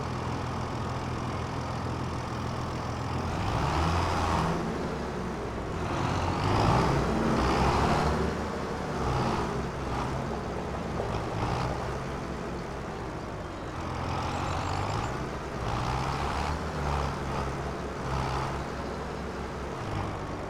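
A farm machine in Farming Simulator 25 drives out to a field for sowing canola, its engine giving a steady, close drone that rises and dips slightly with no pauses.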